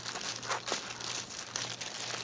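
Plastic packaging on cross-stitch kits crinkles and crunches steadily at close range as scissors work into it, with a few sharper rustling bursts and no talk.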